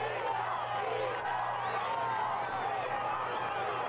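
Spectators packed at the summit of a Tour de France mountain climb in 1986 produce a steady, dense crowd murmur with scattered shouts, the noise continuous and moderately loud throughout.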